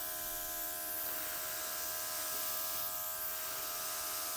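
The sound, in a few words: blowing out poured silver paint in Dutch pour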